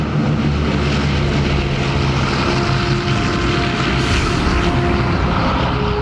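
A propeller airliner in flight gives a loud, unbroken engine drone with a steady low tonal hum, heard from inside the cabin, constant throughout and free of speech.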